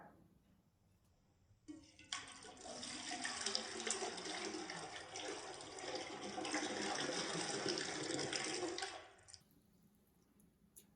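Tap water runs steadily into a cooking pot for mac and cheese, a strong continuous rushing pour of about seven seconds that starts and stops abruptly against a quiet kitchen.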